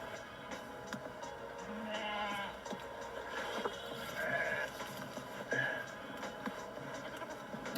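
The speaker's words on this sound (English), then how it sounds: "Look at these little baby lamb." Baby lambs bleating on a farm with donkeys nearby, several thin wavering cries rising in turn over a muffled outdoor background, with a faint voice partly mixed underneath.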